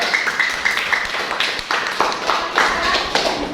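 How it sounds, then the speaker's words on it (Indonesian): A high school math class claps together, a ragged burst of applause with overlapping claps, mixed with some chatter in the classroom. "Oke, beri tepuk tangan dulu."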